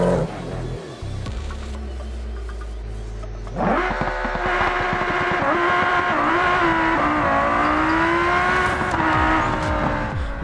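A Chevetta Scintilla launches on a drag strip in BeamNG: a low idle and brief rev, then a sudden full-throttle roar with rising engine pitch and gear changes, staying loud and close to the end.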